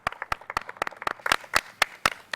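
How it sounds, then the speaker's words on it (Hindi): A studio audience claps for a contestant on a televised farmers' talent competition, with sharp, separate handclaps in an uneven rhythm rather than a dense roar, fairly close and lasting the whole moment. "एक बार जोरदार तालियां"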